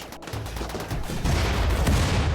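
Mechanoid turrets firing in the video game Rimworld, a dense, continuous fusillade of rapid gunfire that grows louder and heavier midway through, with no talk.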